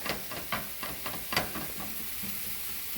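Lean ground meat sizzles in a frying pan with a steady, close hiss, broken by soft scraping taps as it is stirred and broken up.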